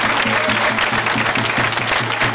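An audience at a traditional tamborilero drummers' contest applauds the sound technician, a brief burst of dense, loud clapping with a faint low rhythmic tone underneath.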